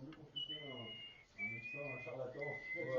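Several sustained whistled notes in a short melodic phrase, held one after another against steady conversational talk in French, fairly close and clear.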